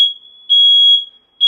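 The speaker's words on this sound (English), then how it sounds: "The fire alarm's going" A loud, shrill smoke or fire alarm sounds nearby in steady, sustained electronic tones, repeating after short gaps with nothing else audible.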